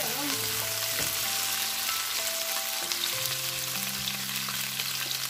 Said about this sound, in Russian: Сейчас зажариваю вместе с ней.